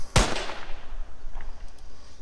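A single sharp rifle gunshot from a demo shooter game fires once, loud and abrupt, then trails into a faint tail and near silence.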